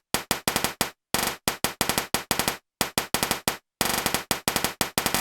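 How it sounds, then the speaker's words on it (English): Glitch pattern built from a Casiotone MT-35 toy keyboard snare track: rapid, harsh stuttering bursts fire in choppy, machine-gun-like clusters separated by brief silent gaps, loud and dry. "for the main glitch pattern throughout the whole song, I used the snare track."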